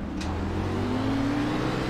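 Stock cars in iRacing's 2018 Xfinity Series at Bristol Motor Speedway accelerate at the race start, with a loud, close engine drone that rises steadily in pitch.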